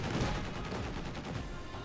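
Dense bursts of US Forces small-arms and heavy-weapon fire from Company of Heroes 2 crackle continuously, loud and close, with no talk over them.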